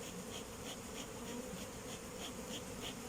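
Honey bees buzz steadily close by from an opened hive, a dense, continuous hum with no voices.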